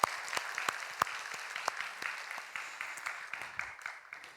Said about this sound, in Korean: 한 번 더 박수해 주시기 바랍니다